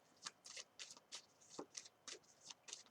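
Tarot cards being shuffled by hand, heard as a close, soft series of rhythmic riffling swishes, about ten brushing bursts in quick succession, with no talking.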